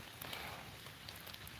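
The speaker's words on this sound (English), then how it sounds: "sometimes they just don't come out while it's raining" A brief stretch of steady rainfall outdoors on a rainy morning squirrel hunt, soft continuous hiss with a few faint drop taps, even in level and unaccompanied by talk.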